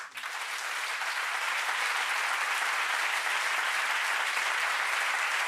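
Lecture audience applauding at the close of an architecture conference talk, a loud sustained wall of clapping that swells in the first moment and holds evenly.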